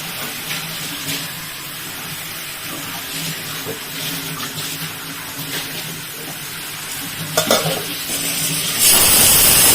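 Washed chicken pieces tossed into a hot pan with curry leaves for chettinad chicken, giving a continuous loud sizzle with stirring scrapes throughout and a harsher hiss rising at the end.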